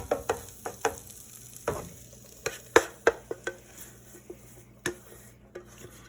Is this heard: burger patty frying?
yes